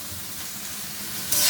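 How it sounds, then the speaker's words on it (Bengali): Taro stolons (lati) are stirred in a pan over a low, steady sizzle, with a brief brighter burst of hiss at the end, heard up close. "ভালো করে এখন নেড়ে চেড়ে দিব।"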